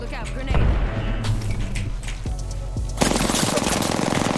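A grenade blast in a PUBG-style battle royale shooter: a heavy boom mixed with bursts of gunfire, then a loud sharp explosion that fills the last second, with players talking over the fight.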